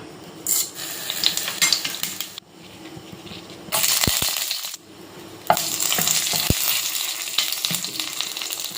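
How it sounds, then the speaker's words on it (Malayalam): Mustard seeds, dried chillies and curry leaves crackling in hot oil for a Kerala okra fry, steady close sizzling with popping and a few sharp clinks of a utensil against the pan. "എണ്ണ ഒഴിച്ചിട്ടുണ്ട് അതിനൊപ്പം കടുകും വറ്റൽമുളകും കറിവേപ്പിലയും ഇടാം"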